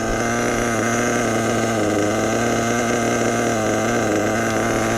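A truck engine idles close up with a steady, loud rumble and an even, unbroken throb.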